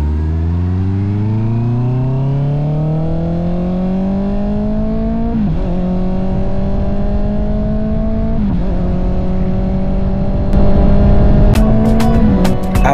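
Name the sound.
Honda CB650R motorcycle riding on the road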